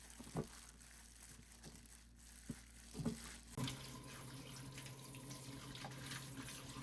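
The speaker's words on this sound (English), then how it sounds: "Just rinse them 2 or 3 times in cold water, and they are ready to use." Bean sprouts rinsed in cold tap water at a kitchen sink for Korean bean sprout rice: a steady stream of running water with soft crinkling and handling noises, getting fuller and louder partway through, with no talking.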